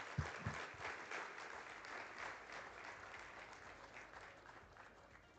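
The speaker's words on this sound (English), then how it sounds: "Another bigger round of applause for Dr. Halilu, please." Sustained audience applause in a conference hall during a local content masterclass, a broad even wash of many hands clapping at moderate distance, fading slightly toward the end.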